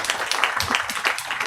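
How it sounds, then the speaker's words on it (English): Audience applause fills a hall at a legal discussion on disability rights, a dense, steady clatter of many hands clapping at once, fairly close and sustained throughout with no voices on top. "Please give a big round of applause"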